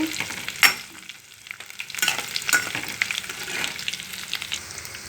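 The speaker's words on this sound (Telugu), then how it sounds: "ఈ కడ్డీ చేపల్ని నూనెలో వేయించుకోవాలండి" Small fish frying in hot oil for a tomato dish, a steady dense sizzle with a few sharp scrapes and stirring clinks of a utensil against the pan, with no talk.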